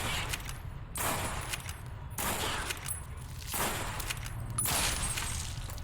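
Gunfire in Fallout: New Vegas, about five sharp, loud, evenly spaced shots or bursts roughly a second apart, with quieter rattling between them.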